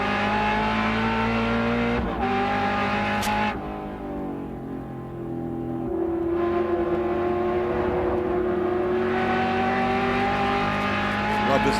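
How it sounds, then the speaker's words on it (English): On-board engine sound from a World Challenge GT race car at Mosport, loud and continuous, shifting through gears with pitch climbs and drops as it brakes and accelerates through corners, with faint commentary underneath. "On board with McClure. Let's take a listen"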